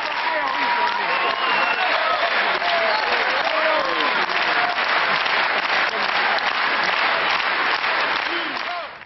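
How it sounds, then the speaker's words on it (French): A theatre audience applauding, dense continuous clapping from a large crowd that fills the space loudly and steadily, with a voice talking over it. "goûter encore ce qui fit toute sa vie, les applaudissements du public"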